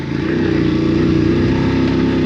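A motorcycle engine drones loud and steady while riding along a road, a constant rumbling hum with slight pulsing and no voices.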